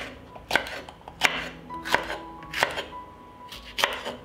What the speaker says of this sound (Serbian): Iseckat ću i jednu ljutu papriku.